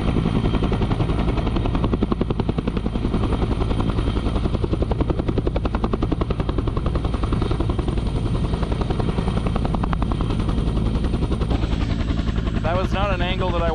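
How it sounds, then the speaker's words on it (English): A helicopter's rotor thumps in a steady, rapid chop with engine whine, loud and continuous, ending in a brief warbling, distorted burst as it crashes. "That was not an angle that I wanted to watch a helicopter crash from."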